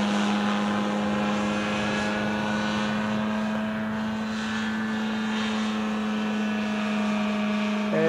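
Ultralight trike engine buzzing steadily as it flies past an airfield at Cambaie, Réunion, a loud continuous propeller drone with a firm low hum held throughout, no talking.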